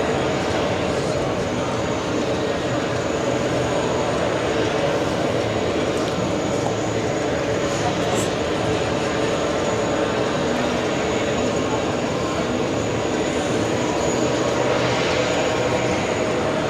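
Jet airliner engines at JFK airport, a continuous loud broadband roar, steady and fairly near, without spoken voices over it.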